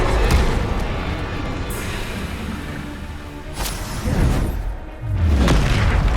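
Bombarda spell blasts in the video game Hogwarts Legacy land as heavy booming explosions with whooshing tails, several big impacts over a dense, loud battle din, no voices.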